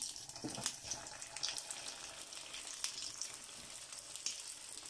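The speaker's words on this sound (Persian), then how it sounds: "روغمون جوش شد" Hot cooking oil sizzling and crackling in a pan while frying, a steady faint hiss with scattered small pops throughout.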